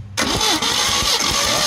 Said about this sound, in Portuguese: Dá a partida mais uma vez.